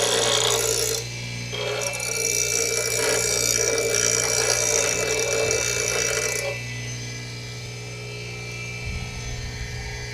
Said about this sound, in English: Now let's put our little